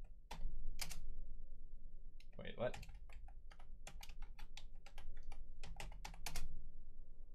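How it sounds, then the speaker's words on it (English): Rapid clicks of a computer keyboard being typed on in bursts across the clip, fairly close and distinct, with a brief spoken interjection partway through. "they have to finish typing this"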